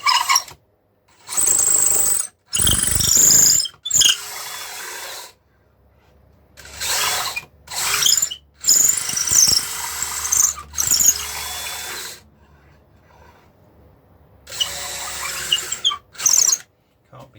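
A loud, close power drill with a large-diameter bit whines and grinds into a guitar body in several separate bursts of a few seconds each, with short pauses between them.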